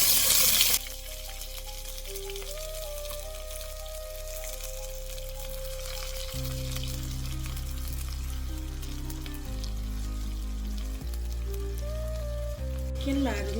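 Sliced onions sizzle steadily in two spoons of well-heated oil for lemon pepper chicken with gravy, a continuous close frying hiss under background music.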